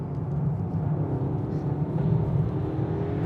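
A new BMW M5 accelerates hard with a steady, loud low engine roar and road noise that holds for several seconds, surging slightly toward the end, with no talk over it.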